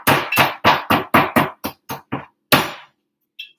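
A hammer pounds a large piece of raw chicken flat, in a fast run of about nine loud, dull thuds, then a pause, one more heavy blow and a faint final tap.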